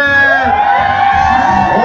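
A loud party crowd cheering and shouting together for a birthday celebrant, voices blending into a sustained, excited roar that carries for about two seconds.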